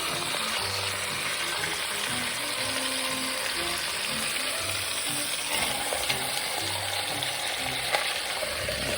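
Food browning on a flat top griddle gives off a steady, even sizzle and crackle that stays close and constant throughout, with no talking over it.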